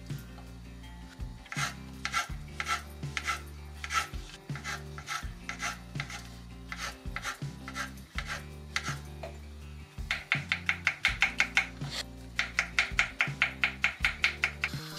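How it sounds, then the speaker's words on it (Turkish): Mushrooms being chopped with a knife on a board in a home kitchen, a quiet run of irregular cuts that turns into fast, steady, rhythmic chopping near the end. "Mantarları da şöyle doğrayacağım."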